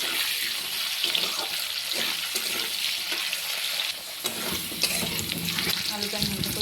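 Potatoes with salt and turmeric frying lightly in a pan, a close, steady crackling sizzle with scrapes and clinks of stirring, no talk.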